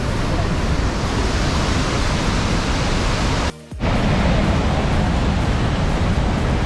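A waterfall in Alaska roars as a loud, steady broadband rush of falling water, filling the whole span close to the microphone apart from one brief dip.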